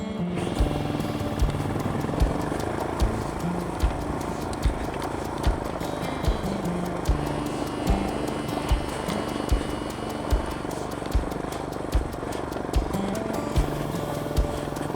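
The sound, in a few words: camera drone flying in wind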